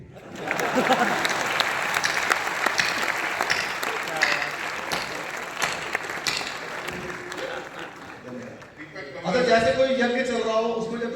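An audience at a Hindi poetry event in Rohtak claps loudly and continuously for several seconds, then the applause fades and a voice speaks over the tail end.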